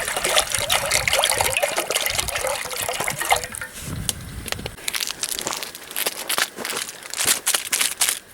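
Water is poured and sloshes into a pot while being readied to boil for instant noodles at a hunting camp, an uneven run of close splashing and trickling with clinks and handling knocks in between.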